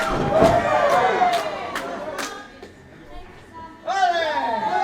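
A wrestling crowd at a Hughes Academy show claps in sharp, rhythmic bursts, loud and close, fading to a lull before swelling again with whoops and cheering; no one speaks over it.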